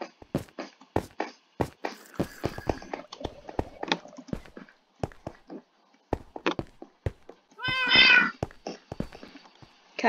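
A synthesized cat in Minecraft meows briefly amid a steady run of clicking footstep and block sounds, the single meow standing out near the end.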